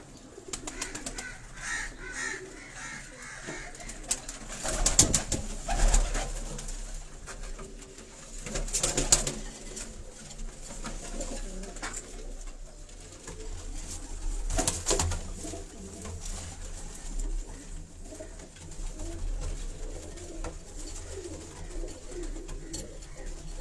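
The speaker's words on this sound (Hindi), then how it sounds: "यहाँ भी बड़े ऐसे कबूतर हैं" Pigeons coo steadily in a loft in Karachi, a flock of high-flying pigeons kept by a fancier, with overlapping soft calls and occasional wing flaps near the microphone, no talking.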